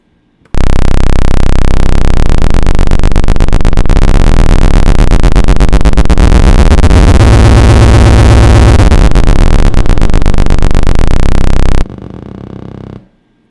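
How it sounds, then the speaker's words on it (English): A low sine-wave tone from an FM synthesizer drones loudly and continuously for about eleven seconds, its pitch wavering and shifting as it moves. It cuts off abruptly, leaving a quieter tail. "let's try a sine wave this time"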